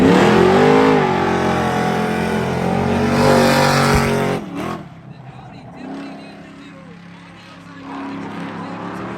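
Loud engines, including an Audi, rev and accelerate hard at spectator drag races, with rising whine, then cut off abruptly, leaving a quieter, distant engine rumble and faint background noise.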